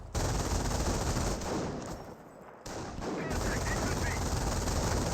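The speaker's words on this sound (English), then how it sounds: "Over here we've got the Panzer Grenadiers sending a lot of rounds with this infantry section." Dense, sustained machine-gun fire from an MG42 and Panzer Grenadier infantry in the World War II strategy game Company of Heroes, continuous rattling bursts that briefly thin out midway before resuming at full intensity.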